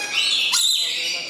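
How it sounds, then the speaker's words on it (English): Common Australian birds chirp in a dense, continuous chorus of high tweets that stays close and fairly loud throughout, with a brief brighter burst midway. "These are very common in Australia. They're like our pigeons or our robins."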